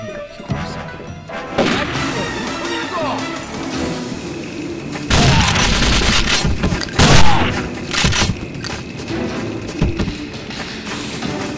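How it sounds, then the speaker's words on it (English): A flashbang grenade going off in the shooter game James Bond 007: Nightfire, a sudden loud crash and burst of noise amid ongoing game effects, busy clattering and thuds. "Flashbang myself!"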